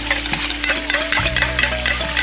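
Melted Kermanshahi oil stirred quickly with boiling water in a bowl, a fast run of scraping and clinking strokes against the vessel, with a bubbling sizzle beneath, close and fairly loud.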